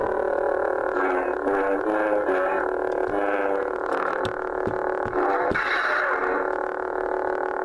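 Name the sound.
lightsaber prop blade hum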